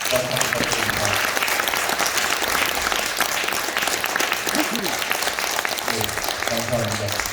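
A church audience at a Christian cultural lecture applauds, a dense, sustained wash of many hands clapping that fills the room at steady volume, with faint voices mixed underneath.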